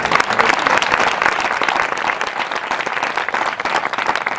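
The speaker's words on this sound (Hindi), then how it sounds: "ताली बजा के प्रभु को धन्यवाद।" A church congregation applauds together in a dense, steady burst of clapping that fills the room, loud and close, with some faint voices mixed in.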